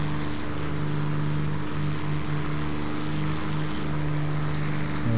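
Propeller warplanes drone steadily overhead in War Thunder, a constant engine hum with a sustained tonal whine and no speech.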